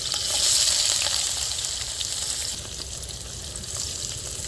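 Chopped onions and green chillies frying with spices in a pan for Andhra chicken fry, giving a steady hissing sizzle with soft stirring scrapes, fairly loud and close, without any voices.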